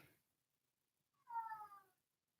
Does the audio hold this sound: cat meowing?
yes